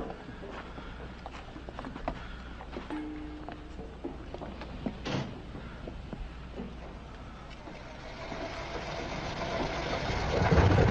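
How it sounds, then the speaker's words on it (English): A car engine from a 1973 TV movie idles with a low, steady mechanical hum and scattered clicks and knocks, then grows louder and rougher toward the end. "Becker, start the engine"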